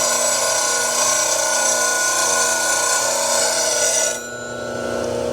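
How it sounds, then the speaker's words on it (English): A bench grinder sharpens a woodturning bowl gouge held in a Wolverine jig, giving a steady loud whirring grind with a high ringing tone. The grinding abruptly drops away near the end, and no one talks. "All we have to do is start up the grinder."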